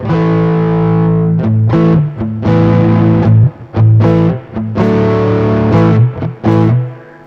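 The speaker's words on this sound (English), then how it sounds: "this will activate a distortion" Distorted electric guitar chords played in bursts with short gaps, thick and saturated, ringing out loud and alone.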